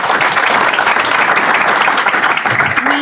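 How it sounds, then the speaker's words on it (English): A forum audience breaks into loud, sustained applause, a dense wash of many hands clapping steadily for several seconds, with a voice starting to speak at the very end. "Let's give them a round of applause."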